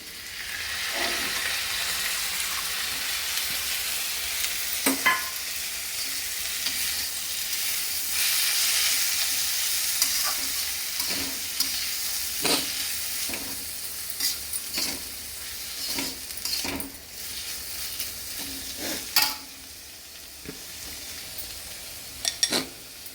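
Soaked moong dal lentils sizzle steadily in a hot pan while a spoon scrapes and stirs, producing repeated sharp clinks over the continuous frying hiss.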